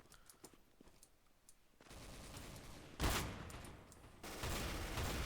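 Gunfire in Counter-Strike: Source, with light bursts that jump to loud, dense, sustained automatic fire heard close up.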